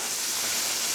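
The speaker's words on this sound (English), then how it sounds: "So we're going to put the vegetables in because we have to saute those." Carrots and onions sautéing in a pan give off a steady, loud, close sizzle with an even hiss that never lets up.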